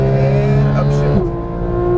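A Porsche 911 GT3 (991) screams at high revs on a race track, then upshifts with a quick break in the engine note before the tone settles lower. A voice talks over the engine.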